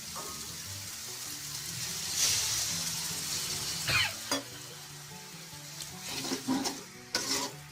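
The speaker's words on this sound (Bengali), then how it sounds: "আমি এখানে অল্প করে নারকেলের দুধ দিয়ে এটাকে কষাবো।" Crab masala sautéed with coconut milk in a pan sizzles and fries steadily up close, broken by several sharp stirring scrapes and splatters toward the end, with no voices.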